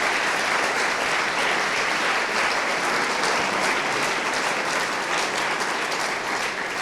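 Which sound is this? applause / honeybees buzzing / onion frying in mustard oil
applause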